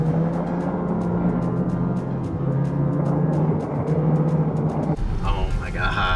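Car traffic in Mackinac City heard from inside a vehicle, a steady low engine and road rumble with shifting tones and a change partway through, under talk.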